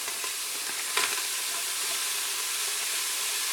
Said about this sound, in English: we start with the usual by frying onions